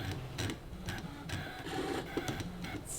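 A Brother ScanNCut machine cuts quilting fabric on its mat, giving off a close, steady mechanical whir broken by repeated short clicks and stepper buzzes as the head moves back and forth.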